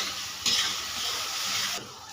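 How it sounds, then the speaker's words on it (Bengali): Mutton masala with garlic and ginger paste frying in a pan for kosha, a close crackling sizzle with scraping stirs that swells briefly, then eases off. "এবারে এটাকে আমি কষাতে থাকব।"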